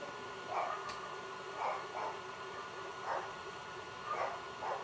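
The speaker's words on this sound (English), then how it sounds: "pardon my dogs, because they bark at just about anything" Several short dog barks at a distance, spaced irregularly across a few seconds over a low, steady background hum.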